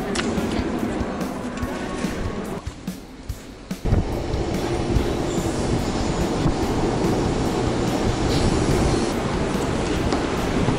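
A passenger train in Taiwan, near Taichung, gives a loud, continuous rumble and rushing noise with a brief quieter dip early on, then a steady roar until the end.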